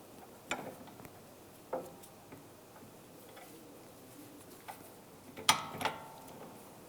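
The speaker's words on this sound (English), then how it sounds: "And a 15mm ratchet wrench. Tighten this down." A 15mm ratchet wrench tightens a rear sway bar link nut on a 2013-2016 Dodge Dart, giving a few sparse, sharp, close ticks, with a quick double click near the end in otherwise quiet surroundings.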